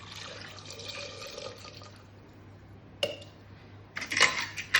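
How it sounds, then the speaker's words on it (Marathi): Water runs into a pot of peeled sweet potatoes for a few seconds, then fades; two short clinks and a brief louder splash follow near the end, with no talking. "आता त्याच्यात मी पाणी घालणार आहे"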